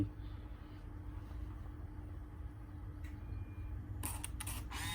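After several seconds of low mechanical hum, a Minolta Capios 25 film camera's shutter fires on self-timer with a quick burst of crisp clicks and whirs near the end.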